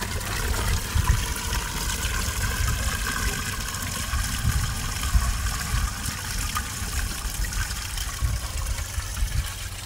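After a flush, the black water tank of an RV drains through a sewer hose with a steady, rushing gush of liquid that runs continuously and evenly throughout. It sounds fairly loud and close, and no voices are heard.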